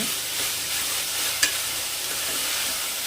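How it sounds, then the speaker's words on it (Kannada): Chopped vegetables fry in oil for a sprouted horse gram sambar, a dense close hiss of sizzling with soft stirring, broken by one brief sharp clink midway. "ಇದನ್ನು ಸ್ವಲ್ಪ ಫ್ರೈ ಮಾಡ್ಕೊಳ್ಳೋಣ ಈ ರೀತಿಯಾಗಿ ಚೆನ್ನಾಗಿ ಫ್ರೈ ಮಾಡಿಕೊಂಡ್ರೆ"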